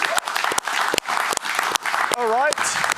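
Applause from a studio audience on a rugby league panel show, steady dense clapping running throughout with a few sharp louder claps, while a voice briefly sings or hums a wavering note over it.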